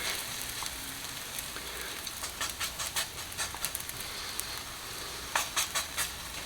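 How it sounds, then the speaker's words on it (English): Flatbread pizza dough with mushroom and onion sizzles steadily in a hot pan, a dense continuous hiss with small crackling pops and brief scraping taps layered on top. "That's what you want to hear, is that sizzle."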